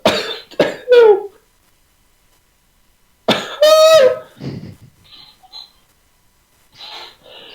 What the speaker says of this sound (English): Oh, I can't shake my cough.